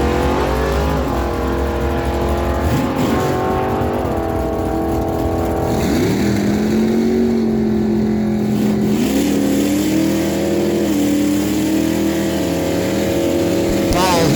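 A drag race at Miramichi Dragway between a Plymouth Barracuda and a 2005 Honda CBR 600 RR motorcycle, loud engines droning and revving up through the run, heard over a continuous roar with announcer speech.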